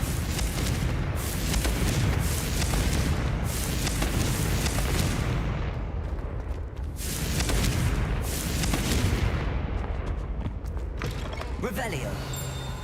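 A fiery blast spell erupts in a video game, loud rumbling explosions rolling in waves over about thirteen seconds, dense low booms that swell, fade and swell again before trailing off, with a voice speaking underneath.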